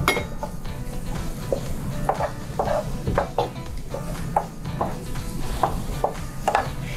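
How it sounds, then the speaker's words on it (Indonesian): Mushrooms stir-fried in oil in a pan for a thick mushroom soup, with repeated clinks and scrapes of a utensil against the pan over a steady low sizzle, close and moderately loud. "Ini ditumis dulu supaya nggak bau jamurnya terlalu menyolok gitu."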